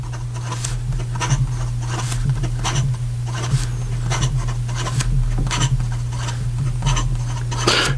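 Pilot Custom Urushi fountain pen with an extra fine nib writing fast on paper, a close, steady scratchy scribble of quick strokes with repeated short taps and lifts, alone under a constant low hum.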